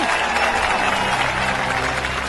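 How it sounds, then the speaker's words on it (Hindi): An audience in a Hindi-dubbed Ravi Teja film breaks into dense, continuous applause, a steady wash of clapping filling the whole moment without any speech. "ताली बजाओ, ताली।"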